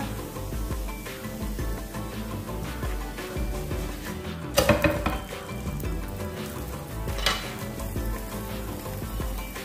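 Finger millet and drumstick-leaf adai sizzling in oil on a hot pan, a steady crackling fry with a brief louder burst midway, close and without speech.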